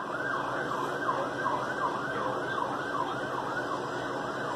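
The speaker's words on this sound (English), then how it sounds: "There's my siren." An emergency vehicle's wailing siren rises and falls in a rapid, regular cycle, sounding at moderate distance over faint traffic noise with no voices.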